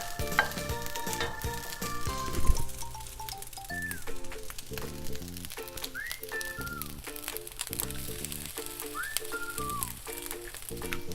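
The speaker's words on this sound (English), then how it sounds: "Cook the rice and onions for about 2 minutes." Rice and onions sizzle steadily in a pan, with stirring scrapes and clinks over the frying hiss and a few faint bird-like whistles in the background.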